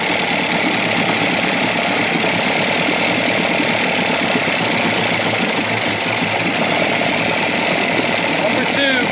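1956 Evinrude 7.5 hp outboard motor running close by, a loud, dense, steady mechanical clatter and buzz that continues unbroken for several seconds.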